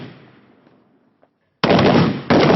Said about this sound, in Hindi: ये रिफ्लेक्स फायर कहते हैं, यानी देखते ही हमला करना।